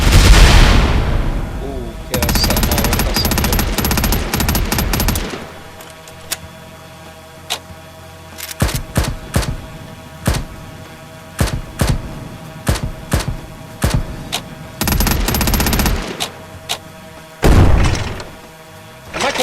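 A 105mm cannon fired from a drone in a video game booms in heavy, loud blasts, some in long rumbling stretches and others as short sharp reports spaced irregularly over nearly twenty seconds.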